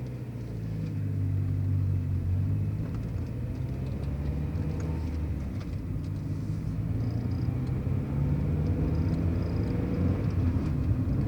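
A stock 1992 Mazda Miata with an inline-four engine and manual transmission drives along, its steady low engine drone and road rumble continuous and even from inside the car, with no talking.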